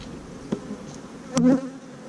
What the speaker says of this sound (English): Bees, nice and passive